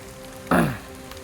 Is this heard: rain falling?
yes